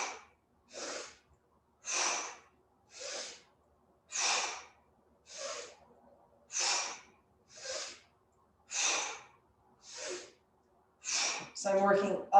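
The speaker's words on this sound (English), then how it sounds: "I'm going to inhale, exhale, inhale, exhale" Deep breaths during a Pilates exercise alternate in and out in an even rhythm. About a dozen close, airy breaths are separated by short pauses, and a voice speaks near the end.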